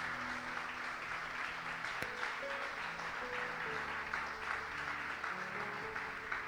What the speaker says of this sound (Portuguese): dê uma salva de palmas a Jesus aí